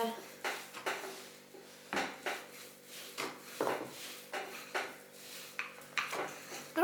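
Nut-and-cinnamon Christmas shortbread dough is rolled out on a board, giving repeated soft knocks and rubbing strokes in an irregular rhythm, close and fairly quiet, with a voice speaking at times.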